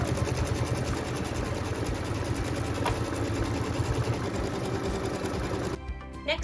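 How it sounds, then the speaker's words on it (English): Embroidery machine stitching a placement line for quilt batting, a steady fast mechanical whir and rapid needle chatter, loud and close, running without a break until it stops near the end, followed by a few faint clicks. "so now we're going to stitch the placement line for the batting"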